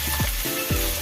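Sliced capsicum, carrot and cabbage with torn green chillies sizzle steadily in a pan, a close continuous frying hiss with a few brief scraping stirs.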